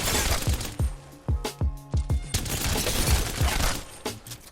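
Gunfire in Apex Legends as target dummies get shot, a string of sharp, close bursts and single cracks with short gaps between volleys.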